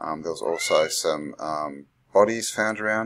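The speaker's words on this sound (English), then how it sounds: "Sorry if you can hear my cat meowing." A pet cat meows indoors, but the meows are partly buried under a person talking steadily through most of the stretch.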